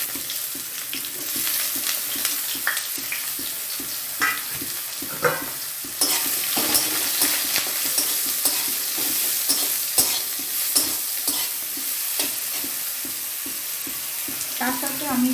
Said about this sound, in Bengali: ফোড়নটা হয়ে গেছে, আমি বেগুনটা দিয়ে দেবো।